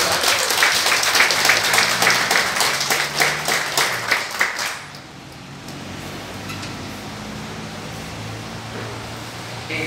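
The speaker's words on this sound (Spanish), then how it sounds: "Eso merece un aplauso de mi parte para ustedes." An audience at a motivational talk gives a round of applause, a lively burst of close clapping for about five seconds that stops abruptly, leaving only quiet room noise.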